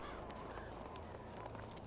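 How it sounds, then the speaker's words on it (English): Crows caw faintly in the distance in the medieval game Medieval Dynasty, a few quiet calls over a soft ambient background. "And leave the crows to it."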